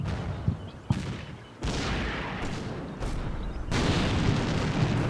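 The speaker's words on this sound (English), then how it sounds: "God, that sounded big to be an artillery explosion" Heavy artillery explosions in the Combat Mission wargame, several loud booming blasts with rumbling decay, the sharpest hits near 0.9 and 3 seconds, then a sustained roar, with no talk.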